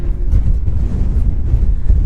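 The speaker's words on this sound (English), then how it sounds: "It's a bit of a epic windy spot." Strong wind buffets the microphone at an exposed overlanding camp spot, a steady low roaring rumble that lasts the whole stretch with no voices.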